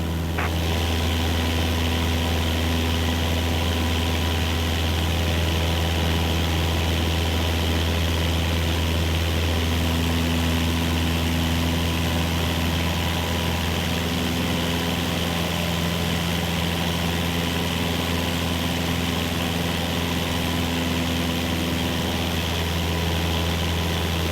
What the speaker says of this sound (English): On the Cessna 172, you need full power to climb effectively.